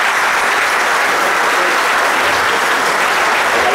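Steady, dense applause from a crowd at a pita-cutting celebration honouring a sports team member, a continuous wash of many hands clapping at even loudness throughout with no talk over it.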